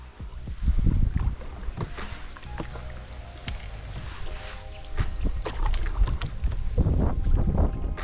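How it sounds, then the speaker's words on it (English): Canoe paddles swish through water with occasional knocks against the hull at a nature reserve in England, an irregular rhythm under steady wind noise outdoors. "as our paddles push forward and occasionally knock, a rhythm of paddling starts to create a song"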